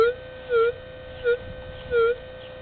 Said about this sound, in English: 7 inch rivet,